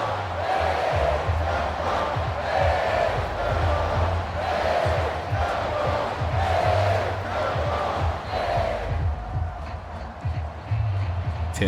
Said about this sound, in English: Tampa crowd letting them know they still with them